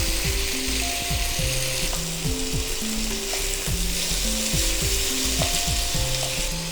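Pork chops fry hard in a pan for a Greek pork and celery stew, a loud, dense, unbroken sizzle close up, with faint tonal clicks and whistles running underneath.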